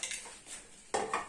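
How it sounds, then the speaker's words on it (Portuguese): Metal clinks and clatters of a pot lid, a few light taps followed by two sharper clanks as it settles onto the pot. "Nós vamos tampar a panela."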